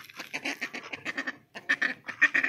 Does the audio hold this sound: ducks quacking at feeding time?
yes